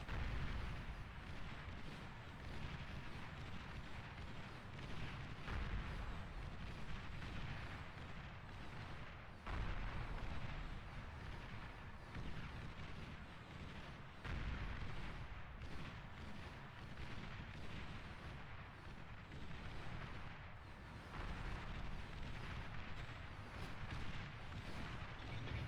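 Bombers pound turrets in a real-time strategy game, a faint, continuous rumble of dull explosions and thuds repeating throughout, low in level with no voices over it.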